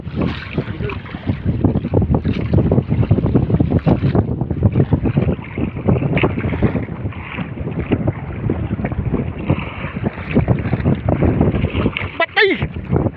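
Strong wind buffets the microphone in a constant roaring rush on a fishing boat at sea, with boat and water noise beneath it and a brief thump near the end.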